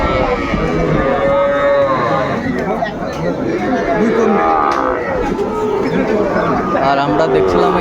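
Cattle lowing repeatedly at a small-bull market in Dhaka during light drizzle, several close moos rising over constant crowd chatter and people talking.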